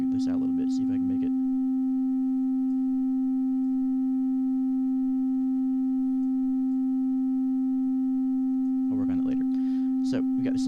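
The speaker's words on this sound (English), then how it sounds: "So we got the sine wave, which goes up and down smoothly. Then we switch over to triangle." A modular synthesizer holds a steady, clean electronic tone at one pitch for about ten seconds, loud and constant, with a person talking briefly at the start and end.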